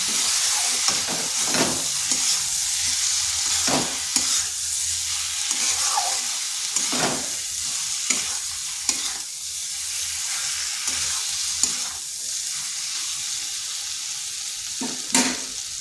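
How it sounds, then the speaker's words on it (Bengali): Potatoes with spices sizzle and fry steadily in a pan for egg-potato curry, a constant close hiss broken by repeated scraping stirs of a spoon against the metal. "এরপর আলুগুলো এই মশলার সাথে কিছুক্ষণ কষে নিতে হবে।"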